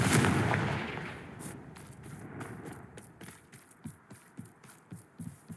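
Confringo blasting spells from Hogwarts Legacy go off as a loud opening blast that fades, then a quick run of sharp cracking pops in an uneven rhythm.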